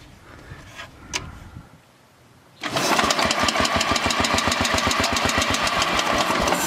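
Briggs & Stratton 8-16 hp small engine newly converted from points to electronic ignition starts abruptly and then runs loudly with a fast, steady chugging beat, close by, after a few quiet handling noises.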